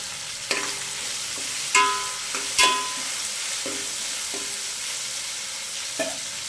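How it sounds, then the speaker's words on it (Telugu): Vegetables frying in a pan with mint and coriander, a steady close sizzle with several sharp clinks and scrapes of a spoon stirring at irregular intervals. "తర్వాత కోసి పెట్టుకున్న వెజిటేబుల్, ఇది బాగా ఫ్రై అయిపోవాలా"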